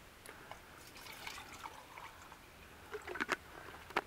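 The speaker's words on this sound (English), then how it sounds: "we're going to fill it up with some water from the Nalgene bottle" Water poured from a Nalgene bottle into a titanium pot, quiet trickling and dripping with a few small splashes near the end, close and soft with no speech.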